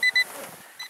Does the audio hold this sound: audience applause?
no